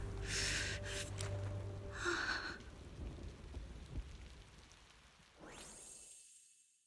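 Rain in the video game Zenless Zone Zero, a steady hissing patter with a breathy gasp early on and a rising swoosh near the end before the sound cuts to silence.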